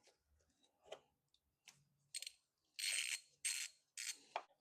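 A ratcheting driver with a T30 bit loosens screws on the air oil separator of an Audi 3.0 engine, giving close bursts of rapid clicking and metallic ticking separated by short quiet gaps.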